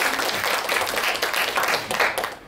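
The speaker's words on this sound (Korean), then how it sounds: "다시 한번 박수 좀 부탁드리겠습니다." Audience clapping at a fan meeting in a small community hall performance room, a brief dense burst of applause that swells and dips slightly over a couple of seconds.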